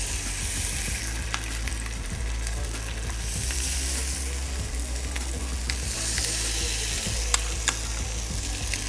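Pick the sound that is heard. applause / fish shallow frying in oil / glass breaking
fish shallow frying in oil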